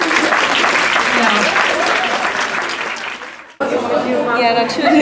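Cinema audience clapping loudly together for several seconds, dense applause that fades out, then a speaker talks over light background noise.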